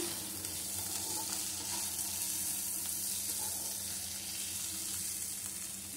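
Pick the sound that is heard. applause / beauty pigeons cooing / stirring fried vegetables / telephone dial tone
stirring fried vegetables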